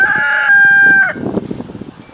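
A farm rooster crows once, close and loud, its long strained cry giving way to softer clucking from the flock.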